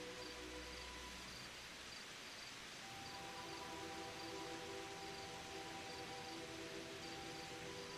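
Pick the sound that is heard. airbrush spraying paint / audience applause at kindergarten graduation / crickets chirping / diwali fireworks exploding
crickets chirping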